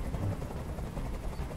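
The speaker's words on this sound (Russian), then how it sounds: "Как же меня бесит этот звук! Прикажи им, чтобы вертолет убрался!" Helicopter hovering in the video game Detroit: Become Human, a steady low rotor rumble held throughout at moderate loudness, with no speech.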